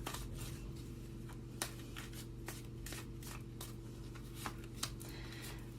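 Tarot cards being shuffled by hand, a steady papery riffling with sharper card snaps now and then over a constant low background hum.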